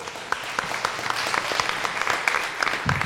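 An audience at a live recording of 3 Bières with Les Pic-Bois at Le Transistor claps in moderate, crackling applause with distinct individual claps, and a voice briefly speaks near the end.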